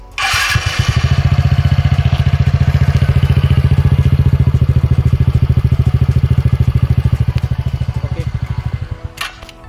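A TVS Ntorq 125 BS6 scooter engine runs close by with a fast, even putter that begins abruptly, holds steady for several seconds, then dies away.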